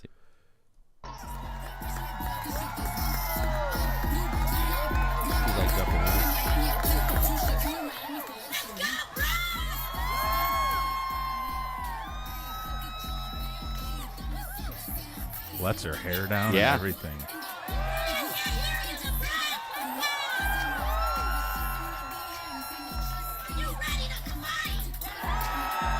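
A rally crowd cheers and yells loudly as Cardi B comes out, holding a sustained roar with whoops and shouts rising and falling. A few voices speak over the din.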